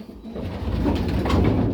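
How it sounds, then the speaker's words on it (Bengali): A female pigeon in a loft gives a low, close coo that swells and then holds briefly, with no other sound around it. "এটা একটা মাদি কবুতর।"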